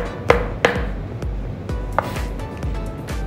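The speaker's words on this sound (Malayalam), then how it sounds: "അല്പം കട്ടിയിൽ ഇങ്ങനെ മുറിച്ചിട്ട് നീളത്തിൽ അരിഞ്ഞു കൊടുത്താൽ" Mushrooms being cut lengthwise into thick strips with a knife on a board, a handful of sharp, close knocks spaced irregularly over a faint background.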